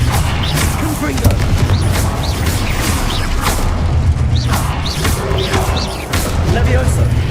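A Confringo blasting spell explodes in Hogwarts Legacy amid a loud, continuous wash of rumbling blasts and combat noise, with whooshing spell effects scattered throughout and speech mixed in.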